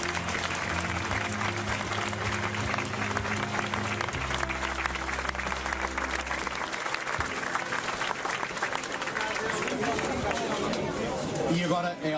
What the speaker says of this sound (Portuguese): O vosso aplauso para Arnaldo Tasca.